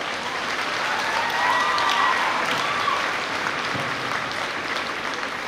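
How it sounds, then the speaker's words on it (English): A university graduation audience gives sustained, dense applause, a steady wash of clapping from many hands filling the hall with no break. "Can you please recognize their contribution to your success by giving them a huge round of applause?"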